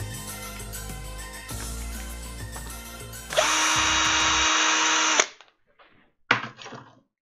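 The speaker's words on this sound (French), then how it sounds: "Perceuse." A power drill bores into a small plastic part being turned into a model gun barrel: a steady close whine for about two seconds, then a brief second burst after a pause, with rustling handling noise before it.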